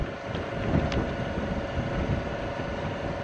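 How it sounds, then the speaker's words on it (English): Strong wind gusts outdoors buffet the microphone, a continuous rumbling roar that swells and eases over a few seconds with no talking. "Still pretty windy out."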